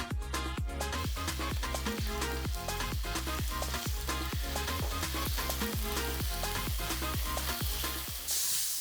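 Small chicken breast pieces frying in hot coconut oil, a loud continuous sizzle close by with rapid regular clicking pulses running steadily through it and no talking.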